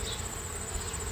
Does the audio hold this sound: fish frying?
no